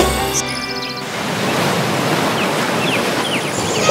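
Ocean surf with big waves breaking and washing ashore, a steady broad roar that swells near the end after a brief tonal sound at the start.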